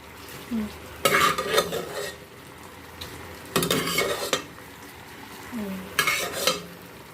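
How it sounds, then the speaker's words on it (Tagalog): Cassava pieces being stirred into brown sugar in a pan, in three separate bursts of scraping and clattering utensil strokes, close and fairly loud, with quiet pauses between. "Lagay na natin ang kamuting kahoy. Mix natin dito."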